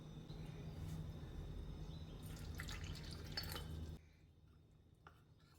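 Water poured into cornflour in a home kitchen while making beetroot halwa, a soft liquid splashing and stirring that stops abruptly, followed by quieter room tone.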